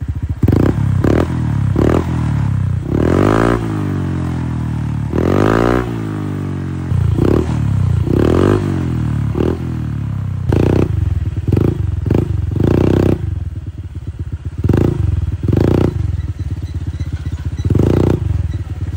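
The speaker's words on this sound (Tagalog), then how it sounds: "Next naman natin yung Honda Click." Honda Click scooter fitted with a Kvin aftermarket exhaust pipe, revving repeatedly in loud, close bursts with rising and falling pitch, sharp throttle blips and a crackling exhaust note, with no talking.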